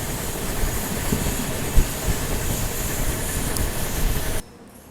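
Bengaluru Rajdhani Express passenger train running on rails in monsoon season, a steady close rumble of wheels and carriage noise with faint rhythmic clatter, dropping off abruptly near the end.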